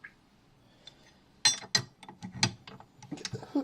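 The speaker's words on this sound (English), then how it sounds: "Get this onto our stand mixer." A mixing bowl holding flour is fitted and locked onto a stand mixer, giving a few quiet clicks and clunks of metal parts engaging, close by and with no talking.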